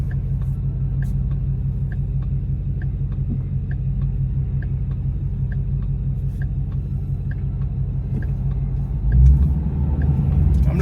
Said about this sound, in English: This is no brake at all, it's just flooring it.